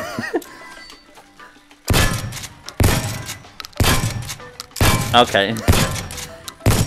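Guns thrown in the Shooty Fruity VR shooting-range game land with heavy, dull thuds, several impacts spaced about a second apart, with a voice speaking briefly between them.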